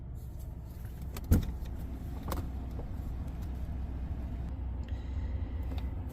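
A GM V8 engine idles steadily with a low, even rumble, interrupted by one sharp click or thump early on and a few faint mechanical ticks.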